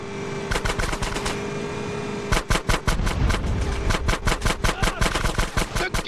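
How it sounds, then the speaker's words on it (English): Gunfire blasting open a sewer gate in the video game GTA San Andreas, with fast rhythmic automatic bursts that grow louder and denser over a continuous game backdrop. "Shoot out the gate!"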